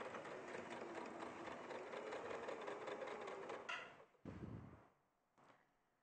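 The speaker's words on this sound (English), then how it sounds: "you can just chain piece them, just keep sewing them together" A sewing machine chain pieces quilt pieces in a steady, even whir that runs for several seconds, then stops and gives two shorter bursts with pauses between them.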